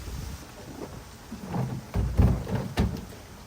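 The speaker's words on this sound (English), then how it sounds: "There's the rain." Rain falls in a backyard with rumbling thunder, a soft steady patter broken by several low booming swells that grow louder toward the end.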